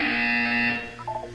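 A loud, steady electronic buzzer from the game Portal 2 sounds for just under a second, then fades into a softer wavering tone.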